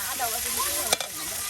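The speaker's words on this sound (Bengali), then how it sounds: "পেঁয়াজ রসুন বাটা সব একসাথে এই যে দিয়ে দেওয়া হচ্ছে। আর এগুলি তেলের সাথে সব একদম ভেজে নিয়ে" Onion and garlic paste frying in hot oil, a steady close sizzle with stirring scrapes and one sharp clatter near the middle.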